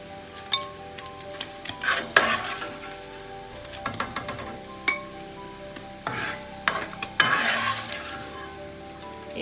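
Chicken fries in hot oil while string hopper koththu is made, a close sizzle broken by clinks and scrapes of a utensil against the pan, no speech.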